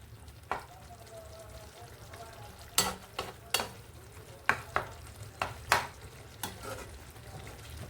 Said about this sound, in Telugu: ఇలా టమోటా ముక్కలు కనిపిస్తే ఇలా మెదుపుకోవాలండి, మ్యాష్ చేసుకుంటూ ఉండాలి